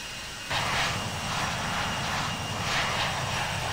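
Jet airliner engines in the Infinite Flight simulator hum steadily after flaps are raised and the aircraft accelerates: a constant broadband whine and rumble that swells slightly partway through.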